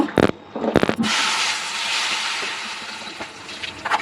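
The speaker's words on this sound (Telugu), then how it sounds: "సో నూనె అయితే కాగిపోయింది. ఇప్పుడు మనం మంచూరియా వేసేస్తున్నాం." Cauliflower manchurian pakodas dropped into hot oil in a kadai, a couple of splashy drops followed by a loud, steady sizzling hiss of deep frying, close and alone.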